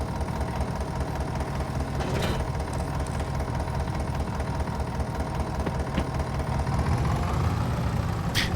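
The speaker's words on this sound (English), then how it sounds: "It's funny because the engine echoes around and it sounds like there are two tractors in the barn." A tractor mower engine runs steadily inside a barn, its low continuous drone and knocking rumble echoing off the walls at a constant level throughout.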